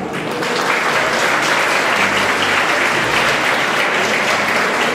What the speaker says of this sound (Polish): Wielkie brawa dla pani.